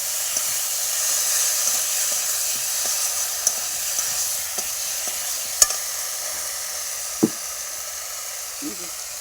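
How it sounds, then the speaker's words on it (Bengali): Spice paste with salt and turmeric frying in a pan, a loud continuous bright sizzle with scattered sharp spoon taps and scrapes while being stirred. "মশলাটা ভালো করে কষাচ্ছি"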